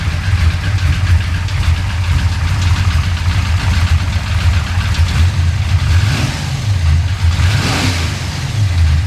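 A 1966 Chevy Impala 427 V8, brought back after 20 years abandoned, idles with a loud, deep, uneven rumble, and the engine rises twice in brief revs near the end.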